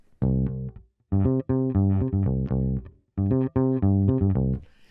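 A bass guitar plays a Motown-style line, moving root, fifth and octave in clear, separate phrases of plucked notes, close and alone.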